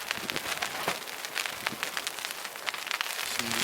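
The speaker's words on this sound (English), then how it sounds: "hail came in again." Hail patters on a tarp at a wild camp in the Scottish wilderness, a steady close crackle of many small hard impacts, fairly loud and continuous.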